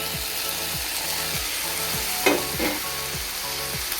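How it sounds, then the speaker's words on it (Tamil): Chopped tomatoes, onions, ginger and garlic sauté in a pan for a mushroom gravy, giving a steady close sizzle broken by rhythmic scraping strokes of a stirring spoon, with no talk. "ஆட் பண்ணிட்டு இது நல்லா வதக்கி விட்டுக்கோங்க."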